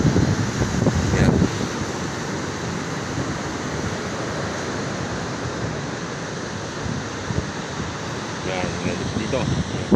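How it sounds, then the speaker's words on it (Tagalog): Strong surf and wind roll steadily along the seashore at Dingalan, Aurora at night, a dense continuous wash with brief voices speaking over it near the start and end. "malakas po yung alon"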